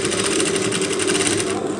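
Sewing machine stitching a stretchy bolero sleeve, running in a fast, even, continuous whir with a rapid needle rhythm, close and loud throughout with no talking.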